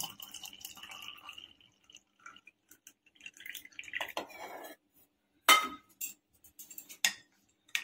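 Spoon clinking against a cup while stirring cinnamon coffee with chilled milk, a few faint light taps and scrapes at first, then several sharp, bright clinks toward the end, alone with no talking.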